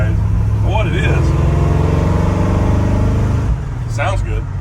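A loud, rumbling V8 in a 1970 Ford F-100 with a big cam and a 600 CFM carburetor idles with a choppy, lumpy rhythm, while someone talks over it.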